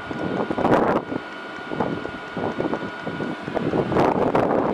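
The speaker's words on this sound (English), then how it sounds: "I'm outside, it's kind of windy" Gusty wind buffets the microphone in loud, rumbling bursts that rise and fall, with no voices.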